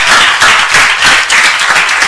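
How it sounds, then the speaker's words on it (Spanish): An audience claps for a woman named Mónica at a talk on homeopathy, a loud, dense patter of hands filling the room in steady waves for a couple of seconds, with no voices over it. "Un aplauso para Mónica"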